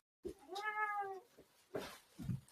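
A black and white cat gives one drawn-out meow close by, followed by a couple of shorter, softer vocal sounds.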